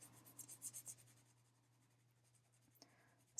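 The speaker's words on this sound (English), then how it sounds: "I'm just like whispering my pencil against it, just a breath across the page." A pencil shades lightly across paper in soft, whispery strokes. A few brief rubbing passes come at the start, then it drops to near silence before one small tap, all very faint and close.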